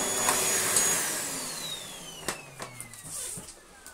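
A Miele C3 Powerline vacuum cleaner runs on a carpet, a steady whine with a pitch sweep and a few sharp clicks and knocks as it picks up bits toward the end.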